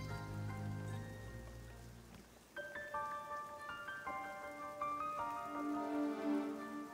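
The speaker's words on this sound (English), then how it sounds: "Dude, that sounds like rain." A steady rain-like patter in Shenmue 3, a soft continuous hiss that runs alongside gentle melodic tones throughout.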